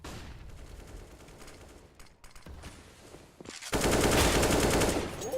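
Rapid gunfire from a CS:GO competitive match, a steady rattle of shots through the first half that swells into a loud, dense burst of automatic fire near the end.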